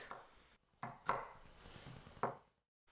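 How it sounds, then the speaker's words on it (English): Knife chopping tomatoes on a cutting board, a few distinct close taps at an uneven pace, quiet with no talk. "Chop the tomatoes."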